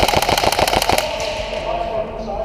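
Rapid burst of a Tokyo Marui SCAR-H airsoft rifle firing during an indoor CQB warehouse game, about ten sharp mechanical shots over one second, then a lingering room echo with faint background noise.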